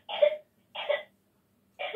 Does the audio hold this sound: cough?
yes